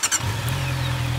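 Honda CB 650R four-cylinder motorcycle engine revving in a steady, sustained drone after a brief squealing start, loud and close with no talk over it.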